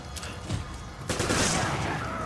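Gunfire in the video game Resident Evil 5, with a burst of shots followed by a dense, loud volley of rapid fire that continues to the end.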